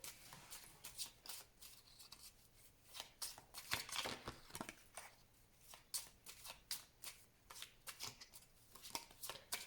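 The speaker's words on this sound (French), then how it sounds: "je vais faire une coupe avec le tarot que j'utilise pour les consultations plutôt prédictives" A tarot card deck being shuffled and cut by hand, with repeated crisp riffling and flicking bursts in an uneven rhythm, close and quiet.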